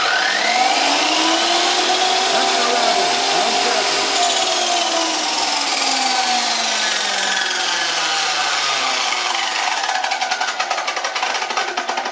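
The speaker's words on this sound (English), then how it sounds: "Okay, good angle grinder this." An angle grinder runs continuously, loud and close, its high whine sliding down in pitch and wavering as the motor load shifts, with no talk over it.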